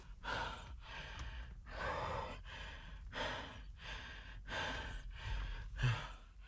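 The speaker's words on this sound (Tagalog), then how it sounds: "Hingal-hingal ka kuya." Heavy, rhythmic panting breaths in a horror video game, about eight loud close gasps in steady succession with a brief low thump near the end, no talk.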